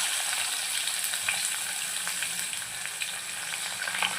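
Onion fried with spices in a pan for mutton paya soup, a close, busy sizzle with a few light stirring clicks, steady and alone without speech.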